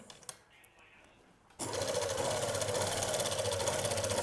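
A sewing machine stitches a sleeve seam, starting after a quiet moment and then running continuously with a loud, rapid mechanical chatter close by. A voice is faintly heard before it starts.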